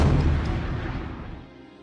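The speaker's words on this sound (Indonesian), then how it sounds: "markas itu pun meledak karena sebelumnya telah dipasangi bom" A bomb blows up a mafia hideout in an action film, giving a single loud, deep boom whose low rumble fades away over about two seconds.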